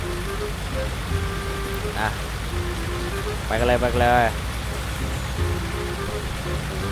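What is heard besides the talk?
heavy rain falling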